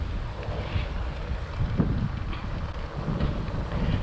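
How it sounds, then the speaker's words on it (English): Cold wind blows outdoors on a sunny day near a beach, a steady rough gusting rush buffeting close and loud, with no voices. "Nice weather today, a little bit windy, and the wind is cold."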